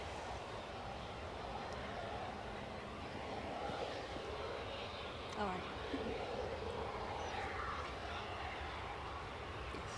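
An EasyJet airliner's engines drone steadily at Edinburgh Airport, a broad continuous roar at moderate distance with a slight swell midway, while someone talks over it.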